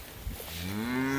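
A cow in a pasture with grazing calves lets out a single deep, rising moo, close and loud, preceded by a soft rustle.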